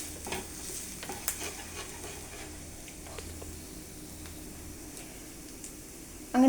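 Garlic sautés in butter for a butter garlic egg dish, making a soft, low sizzle under intermittent scraping and stirring taps from a spoon in the pan, fairly quiet and close, with no speech.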